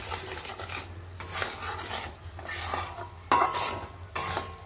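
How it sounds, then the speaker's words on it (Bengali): Amla pickle being stirred with black salt and turmeric, producing close, repeated scraping and clinking of a spoon against a pan in uneven strokes over a low background hum, with no speech. "এটা নাড়িয়ে নেব।"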